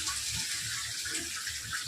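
Mutton being washed under a running kitchen tap, a steady rush of water splashing and gurgling close by for a couple of seconds without any talk.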